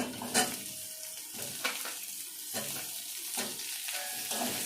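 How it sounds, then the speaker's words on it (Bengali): Chopped onions frying in hot oil after garlic for a potol chingri curry, a continuous sizzle punctuated by several scraping stirs of a spatula in the pan. "কুচনো পেঁয়াজ ছিল সেটা দিয়ে দিচ্ছি"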